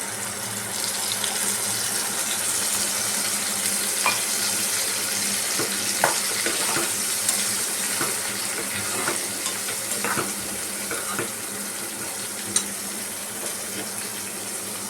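Spice paste hits pumpkin frying in a pan for Bengali kumror chakka, a steady broad sizzle throughout with faint scattered crackles and no talk.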